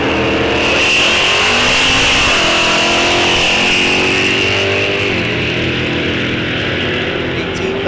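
Bracket drag race cars at Rock Falls Raceway, including a 1983 Mustang, roaring down the strip with loud sustained engine drone and rising revs through upshifts, close and overwhelming, with an announcer talking underneath.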